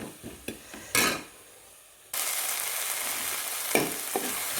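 Drumstick leaves sauté in a pan, with a few clanks and stirs at first, then a sudden burst of steady, fairly loud sizzling that carries through to the end.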